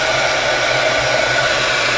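A heat gun blows steadily while shrinking plastic wrap around a bar of soap, a loud, constant broadband hiss and whoosh with a low hum underneath, unbroken from start to finish with no voices.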